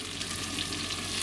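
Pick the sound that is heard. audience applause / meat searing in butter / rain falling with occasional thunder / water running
meat searing in butter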